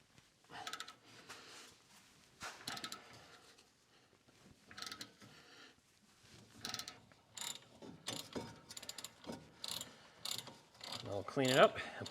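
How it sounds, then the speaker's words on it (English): A 1/2-inch ratchet loosening a bolt during front brake replacement on a Dodge Ram 1500, repeated bursts of close clicking pawl ratchet strokes separated by short pauses. "that should be loose enough now to get with the 1/2-inch ratchet here."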